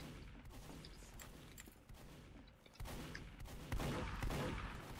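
Rapid, continuous minigun fire in a Team Fortress 2 match: a dense, crackling stream of shots with heavier bursts near the end, fairly distant and muffled in a busy game mix.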